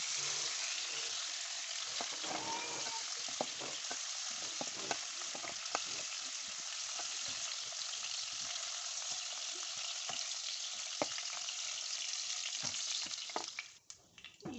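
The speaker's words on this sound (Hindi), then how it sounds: "इसको भी इसी तरह से हम फ्राई करेंगे।" Potatoes sizzle and crackle as they fry in ghee in a pan after cauliflower, a continuous hiss scattered with small pops and occasional stirring. The sound runs close and steady for about fourteen seconds.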